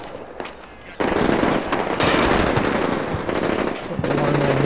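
Machine gun fire in the war game Combat Mission Shock Force during urban combat in Al Amarah, rapid automatic bursts starting abruptly after a quiet moment, loud and sustained with sharp cracks and brief pauses.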